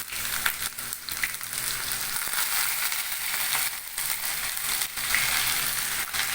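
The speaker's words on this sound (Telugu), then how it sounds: "ఆనియన్స్ వేస్తున్నాను ఫ్రెండ్స్" Onions hitting hot oil for a chicken liver fry, giving a bright, continuous crackling sizzle with sharp popping bursts throughout, fairly close and without speech.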